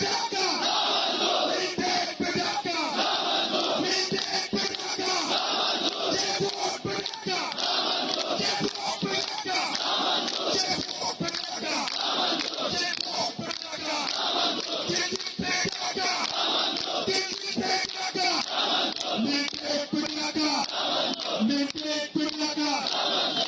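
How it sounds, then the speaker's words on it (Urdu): A large protest crowd in Gilgit chants slogans in unison, loud and sustained, with many voices shouting together throughout. "ذرا آپ کو دکھاتے ہیں ویڈیو کے وہاں کیا نعرے لگ رہے ہیں"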